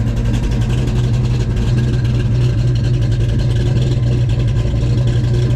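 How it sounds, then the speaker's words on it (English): A 1993 Ford Mustang GT fox body V8 runs steadily with an exhaust leak, giving a loud, continuous low engine rumble and drone close by, with no talk over it. "we definitely got a new exhaust leak we should check"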